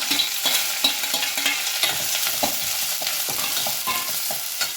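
Steady sizzling of onions, shallots and red and green chillies frying in hot tempering oil for sambar, with soft scraping and stirring sounds repeated throughout.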